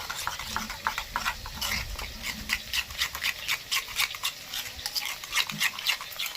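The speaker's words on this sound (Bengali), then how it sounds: "আর দইয়ের মধ্যে দিয়েছি চিনি এবার এটাকে ভালো করে মিশিয়ে নেব" Yogurt mixed with sugar being stirred in a bowl, a quick run of close, wet, rhythmic spoon strokes and soft clicks, alone without talk.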